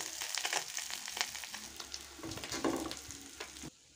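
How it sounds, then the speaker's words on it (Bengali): Bata fish fry in oil in a pan with a dense, continuous crackling sizzle, close and fairly loud, then stop abruptly at the very end. "মাছগুলি আমি খুব ভালোভাবে ভেজে নিয়েছি"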